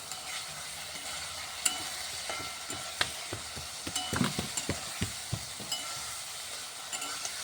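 Spice paste frying and being stirred in a pan on a gas stove, a steady close sizzle broken by scraping strokes and light clinks of the spoon, with no voices.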